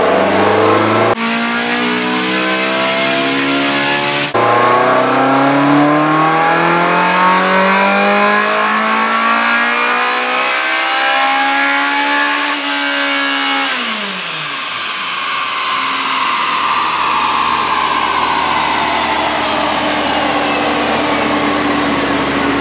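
A Ferrari 360 engine revs hard on a dynamometer, its pitch climbing steadily through the gears to a screaming peak, then dropping away as the run winds down to a lower drone. The engine is loud and close, with no talk.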